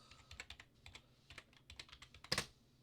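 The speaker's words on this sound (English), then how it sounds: "you can probably hear my mechanical" Fast, close typing on a mechanical keyboard, crisp individual key clacks in quick uneven bursts, ending with one louder, sharper strike, and nobody talking.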